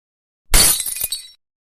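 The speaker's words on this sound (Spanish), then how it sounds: "Un sonido como de vidrio roto resonó en un viejo patio de juegos." Glass breaks in an old playground: a single sharp shattering crash followed by a brief tinkling scatter of shards, loud and close, with nothing else around it.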